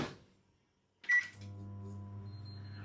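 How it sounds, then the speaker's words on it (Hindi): A microwave oven is switched on with a short beep, and a steady low mains hum starts and keeps running after a moment of quiet. "अब ये माइक्रोवेव मैंने ऑन किया"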